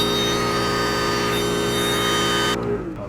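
Spalted oak spinning on a lathe is sanded with 800-grit paper, a steady close rushing hiss over the machine's hum that stops abruptly near the end as the motor winds down.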